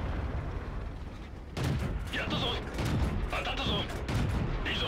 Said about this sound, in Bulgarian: Три бързи изстрела в задника за 379 демидж.